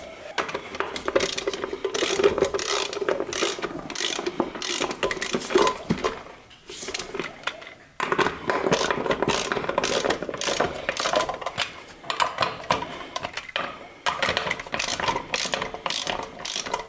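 A ratchet wrench clicks in quick bursts while tightening the wheel nuts on a Honda Sportrax 300EX quad, close and alone, with brief pauses between runs of rapid pawl clicks.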